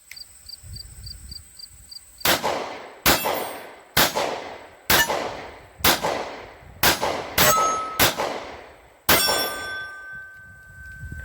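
Nine sharp 9mm pistol shots, each followed by a bright metallic ring of a steel target, fired at a steady pace with a brief tone after the last; faint beeps at the start.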